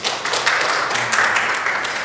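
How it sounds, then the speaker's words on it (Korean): Church congregation applauding in welcome for a newly arrived member, a steady wash of clapping filling the room throughout at moderate loudness. "박수로 한번 환영하겠습니다"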